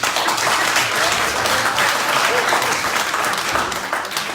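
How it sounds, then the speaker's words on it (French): Steady, dense applause from a crowd, sustained and loud throughout with no pauses. "Applaudissez pour nous."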